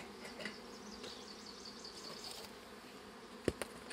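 Honeybees buzzing around a hive frame during a feeding check, a steady low drone with faint insect whine throughout, plus two brief knocks near the end.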